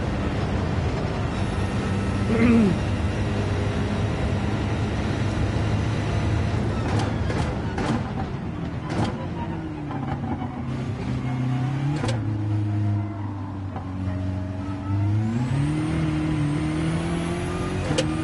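A turbocharged race car in a racing video game holds a steady, droning engine note, pitch swelling and dipping as the driver keeps the turbo spooled through a section, loud and continuous with no talk.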